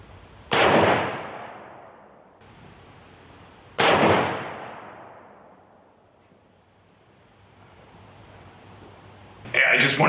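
A .308 hunting rifle fires at a public shooting range, two loud, close blasts a few seconds apart, each trailing off in a long rumbling echo, with another shot starting at the end.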